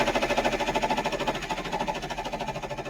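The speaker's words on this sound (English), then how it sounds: "So it's going to sew down that fabric." A Brother PR1055X embroidery machine sews down fabric in the hoop, producing a steady close hum with a fast pulsing rhythm throughout.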